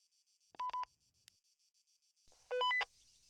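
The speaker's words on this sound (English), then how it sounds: "you'll notice you hear that beep. That is TFAR disconnecting and then reconnecting when you actually get into Zeus" Two short bursts of radio beeps as the TFAR radio reconnects on entering Zeus mode in Arma, a quick triple chirp followed by a longer stepped tone sequence over a faint steady hum, with no talking.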